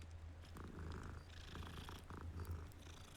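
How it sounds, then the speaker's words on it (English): A cat in the Hogwarts Legacy video game purrs in a continuous low, rhythmic rumble, close and fairly soft, heard alone without any talking. "The kitty cat. It's just sitting there."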